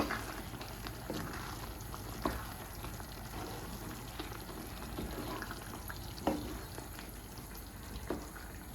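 Soft, continuous bubbling and sizzling of a Jaffna-style coconut milk chicken curry simmering in a pot nearby, with occasional faint clicks, quiet and steady without speech.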